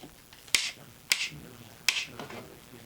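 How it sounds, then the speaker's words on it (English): The nylon ratchets on an Ashford Brooklyn 4-shaft table loom give three sharp, separate clicks, each crisp and close, spaced unevenly over a quiet room. "the ratchets for the front and the back beam are made out of nylon, and so they make kind of a loud clicky noise"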